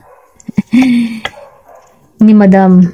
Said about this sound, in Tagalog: Pasensya na sa tahol ng aso.